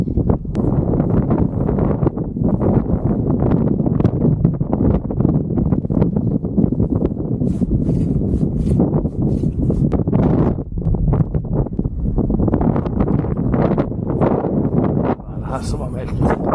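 Strong wind buffets a small fishing boat out on the water during autumn sea trout fishing in Rogaland, a steady loud roaring rush of wind noise hitting the microphone throughout, with someone talking over it.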